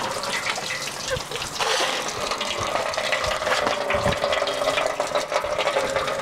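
Coolant water gushes steadily out of a Dodge Caravan radiator during a flush with a Zerex Super Flush product, the cap removed, a continuous close splashing flow with no talk.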